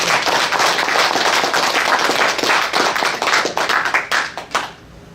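An audience at a Buddhist temple dharma talk clapping together, a dense, loud round of applause that carries steadily and then thins into a few scattered claps before fading.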